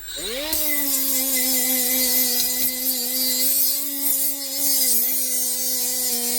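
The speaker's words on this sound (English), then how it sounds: "I just want to test to see if this thing bogs down under power." A Milwaukee M12 cordless right angle die grinder spins up sharply and holds a steady, high-pitched motor whine with a faint hiss. It runs close and loud, dipping slightly near the end without bogging down.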